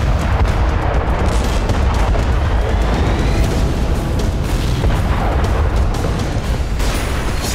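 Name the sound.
explosion destroying Russian BM-21 Grad MLRS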